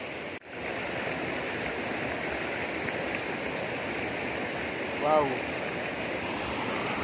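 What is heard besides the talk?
clear stream water flowing at farmlot waterfalls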